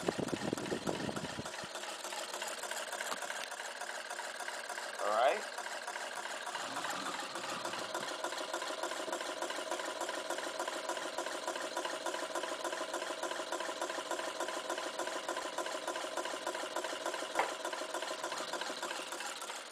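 A battery-powered 2011 Newman motor spins a 19.375-inch fan, giving a steady, continuous mechanical whir and hum at moderate level, with one brief clunk early on.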